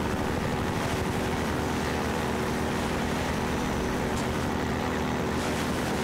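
A helicopter flies in Half-Life 2, giving a loud, steady roar of rotor and engine noise that fills the scene without a break.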